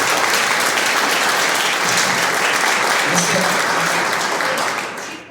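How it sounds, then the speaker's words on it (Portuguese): A church congregation at a Eucharist service breaks into steady, full applause, a dense wash of clapping held for several seconds before tapering off at the very end. "Uma salva de palmas para Jesus nosso Senhor."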